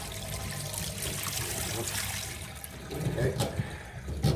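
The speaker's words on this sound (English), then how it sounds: "That's the noise it makes when it drains." A Simpson 8.5kg washing machine drains with a continuous gurgling, trickling rush of water, steady throughout with bubbly bursts near the end, while a person speaks briefly.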